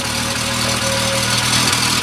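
A car engine idles steadily up close, a continuous low rumble with a faint whine, no voices.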